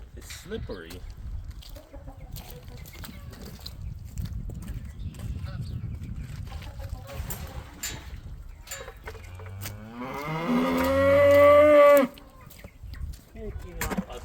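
Cattle at feeding time on a farm, one loud drawn-out moo rising near the end after a stretch of quieter farmyard noise, with chickens clucking and people talking in the background.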